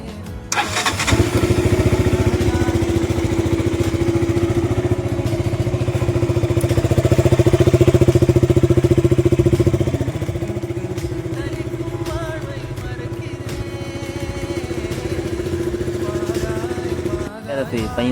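A KTM RC 200 motorcycle engine starts with a sharp crank, then idles with a loud, steady, close rumble that swells briefly in the middle and settles back to an even idle. No one speaks over it.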